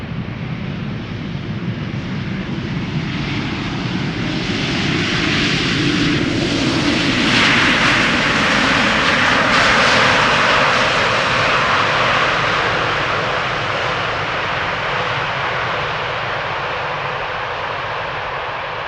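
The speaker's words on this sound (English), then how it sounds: "let's have a look at Air Canada flight 900 arriving from Montreal" An Air Canada airliner on arrival from Montreal lands at Amsterdam Schiphol Airport, a loud, sustained engine roar and rush that swells to a peak midway and then slowly eases, mixed with wind noise and no talking.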